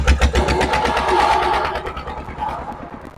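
Small ride-on tractor engine running steadily up close after starting, a loud continuous throbbing idle with a rough mechanical chatter, holding even throughout with no talk over it.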